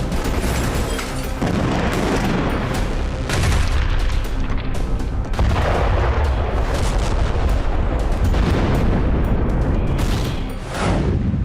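Repeated heavy booms and bursts of gunfire from Israeli strikes in North Gaza, loud and close, come at irregular intervals over a continuous rumbling background with no voices.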